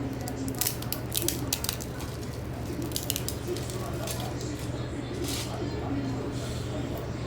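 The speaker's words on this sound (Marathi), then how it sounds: "तर ह्याचे असे तुकडे करून घ्यायचे आहेत आधी आपल्याला" Dried kurdai, brittle wheat crisps, snapped by hand into small pieces, giving scattered crisp cracks and crunches over a steady low background hum, with someone speaking throughout.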